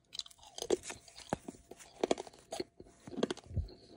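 Someone chews decades-old gum from a 1987 Topps baseball card cello pack, giving a series of close, dry, irregular crunches and bites over about four seconds with no talking.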